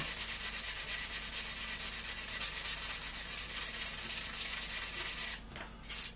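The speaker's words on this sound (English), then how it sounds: "Okay, we'll try and sand it back in." Sanding a scale model by hand: steady, rhythmic rasping rub strokes that carry on continuously at close range, with a short pause and a few sharper scrapes near the end.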